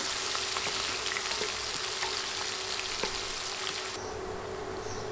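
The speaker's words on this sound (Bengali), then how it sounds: "নেড়ে 2-3 মিনিট পেঁয়াজ ভেজে নিব।" About three medium sliced onions fry in a pan over medium heat with a steady, close sizzle. Faint clicks of stirring and scraping break through the hiss.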